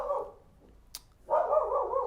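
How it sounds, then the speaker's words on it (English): A dog barks in two drawn-out, fairly loud bursts close by, separated by a quiet gap and a brief click, with no one talking. "Sorry, that's my dog."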